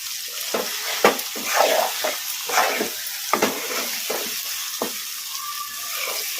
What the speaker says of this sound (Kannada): ಈಗ ನಾನು ಸೈಡ್ ಡಿಶ್ ಆಗಿ ತಿನ್ನೋದಕ್ಕೆ ಒಂದು ಸ್ವಲ್ಪ ಹೈ ಫ್ಲೇಮಲ್ಲಿ ಇಟ್ಕೊಂಡು ಫ್ರೈ ಮಾಡ್ಕೊತೀನಿ